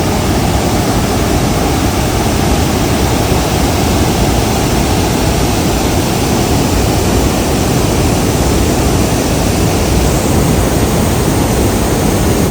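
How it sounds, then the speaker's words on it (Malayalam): Powerful rushing water roars continuously below Neyyar Dam in Thiruvananthapuram, a dense, steady, loud wash of noise with no breaks or voices. "വെള്ളത്തിന്റെ ഫോഴ്സ് ഒന്ന് കേട്ട് നോക്കും"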